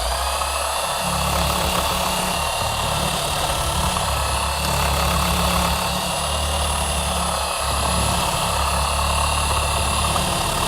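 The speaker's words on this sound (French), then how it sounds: "l'avantage avec le Dremel, c'est que c'est un outil de précision" Dremel rotary tool running at minimum speed to polish a dull, scratched screen, a steady droning whir that holds level throughout with a low hum underneath, close and continuous with no talking.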